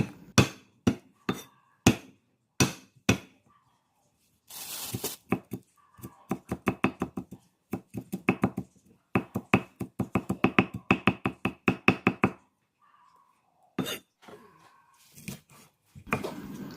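Garlic is smashed on a board with the flat of a knife, sharp loud knocks in quick bursts and steady runs of rapid whacks, separated by brief pauses, close with no talking.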